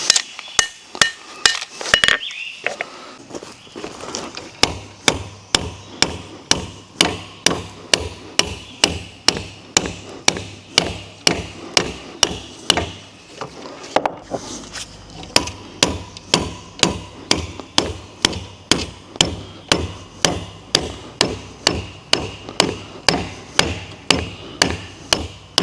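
An anvil hammer pounds metal while a fertilizer spreader's chain link and D-shackle are fitted, producing a long series of loud, sharp, ringing strikes at a steady, fairly quick rhythm, close up with no talking.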